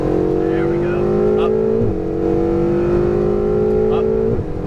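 A Ferrari 488 GTB engine howls under full throttle on the Las Vegas Motor Speedway track, loud and close, its pitch climbing through sustained pulls with quick dips at each upshift, and a voice talks over it.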